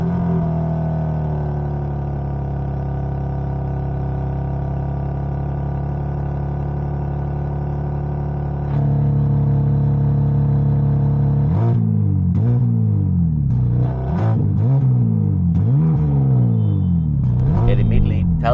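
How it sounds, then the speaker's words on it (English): A 2025 BMW M3 with the S58 engine and six-speed manual, rear-wheel drive, idles with a steady low rumble, then its note steps up and it revs repeatedly in sharp, rising and falling bursts, loud and close. "when you first start the car and you hear that, like how that S58 wakes up"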